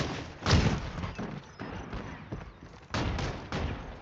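Muffled shots and thuds from a video game shooter come in scattered bursts, fairly quiet and somewhat distant, against a steady background rumble.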